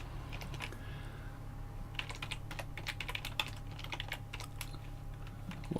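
Quick, irregular clicking of keys on a computer keyboard, close and fairly soft, with bursts of taps over a low steady hum.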